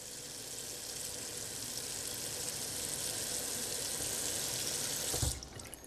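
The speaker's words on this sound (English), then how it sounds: "½ inch of water in here." Tap water runs steadily into a saucepan for a kitchen stovetop recipe, a loud continuous hiss that builds slightly as the pan fills, then cuts off abruptly near the end.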